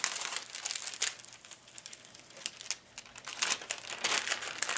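A thin plastic sheet from a diamond art kit crinkles and crackles as it is handled up close, with a steady run of sharp rustling bursts and no talking.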